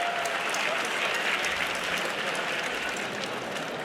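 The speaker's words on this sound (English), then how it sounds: "how about a round of applause for both of these warriors going 3 hard-fought rounds tonight" A fight-night crowd in Bangor, Maine applauds after a three-round bout, with continuous, dense clapping and a faint crowd murmur at an even level throughout.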